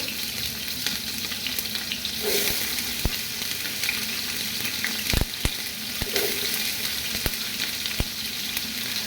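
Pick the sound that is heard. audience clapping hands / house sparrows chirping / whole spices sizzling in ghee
whole spices sizzling in ghee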